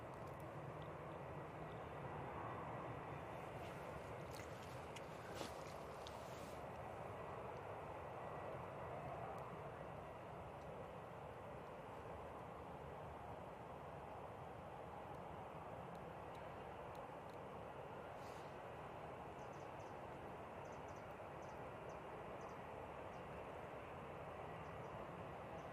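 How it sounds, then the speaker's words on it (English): British Airways shuttle airliner arriving at Manchester Airport, a faint, steady broadband engine roar holding evenly throughout, distant and unbroken. "we have this British Airways shuttle coming in"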